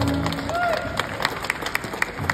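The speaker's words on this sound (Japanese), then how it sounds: "皆様温かい拍手をお願いいたします" Scattered claps from an audience at a live stage event at Palaestra Hachinohe, greeting a performing duo as they are introduced. A few sharp hand claps come through beneath a talking voice.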